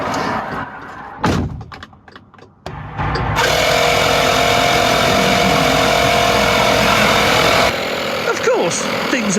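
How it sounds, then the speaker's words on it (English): A sustained hiss of compressed air blasting for several seconds, loud and close, following a few knocks and clunks, with a voice heard briefly. "I'm just going to stop and give it another quick blast of air"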